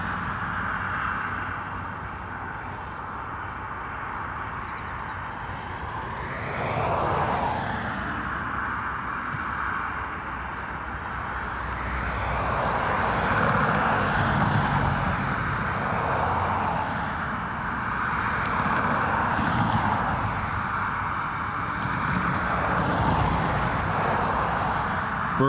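An Aer Lingus A321XLR jet airliner arriving from Amsterdam at Dublin Airport gives a steady engine roar with a rising whine that swells and stays loud throughout, under a broad wash of wind noise.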